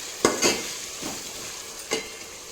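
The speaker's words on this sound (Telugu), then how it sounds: "ఇప్పుడు దీంట్లో 1 టేబుల్ స్పూన్ అల్లం వెల్లుల్లి పేస్ట్ వేసేసి ఈవెన్గా ఫ్రై అయ్యేటట్టు ఫ్రై చేసుకోవాలి" Ginger garlic paste and vegetables are stir-fried for biryani in a pan with a steady sizzle, while a spoon scrapes and stirs in a few distinct strokes, close up.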